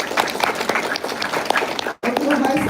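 An audience at a school music awards ceremony claps steadily in a dense, continuous round of applause that dips briefly near the end before resuming.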